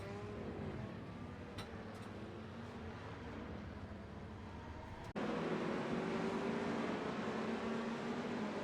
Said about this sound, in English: You can hear him get on the throttle and then he immediately hits the brakes.